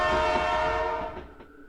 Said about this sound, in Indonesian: dari jauh terdengar suara kereta melintas